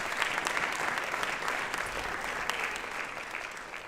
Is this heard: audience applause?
yes